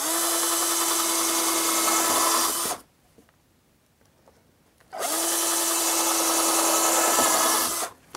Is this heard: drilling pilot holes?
yes